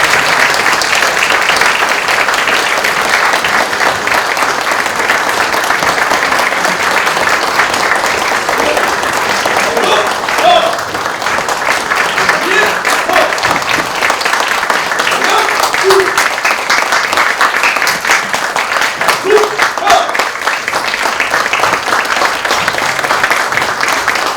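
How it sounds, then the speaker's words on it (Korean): An audience at a university honorary doctorate conferment ceremony applauds the president and guests as they enter, with dense, sustained clapping filling the hall throughout. "모두 박수로 환영해 주시기 바랍니다."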